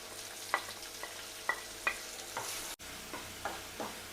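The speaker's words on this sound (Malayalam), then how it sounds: "ഒനിയോൻ എല്ലാം വഴണ്ട് കിട്ടിയിട്ടുണ്ട്" Chopped onion and green chillies sauté in a pan for a red masoor dal curry, with a soft steady sizzle broken by several sharp scraping stirs of a spatula, close and moderately loud, no voices.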